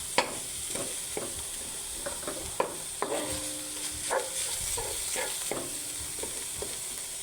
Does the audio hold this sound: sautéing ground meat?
yes